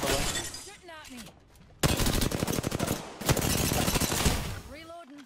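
Bursts of rapid automatic gunfire rattle loudly in a video game, two long sustained volleys with a brief gap, while voices talk before and after the shooting.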